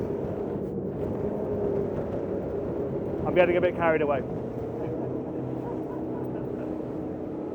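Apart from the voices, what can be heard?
Fairline F33 day boat V8 engines roaring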